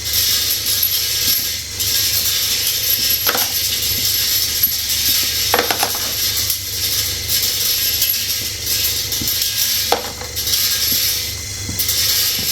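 Brass cartridge cases, including 9mm, rattle and clatter continuously through a vibratory brass sorter mounted on rubber feet, a loud, close mechanical buzz with occasional sharper clinks of cases dropping, and no voices.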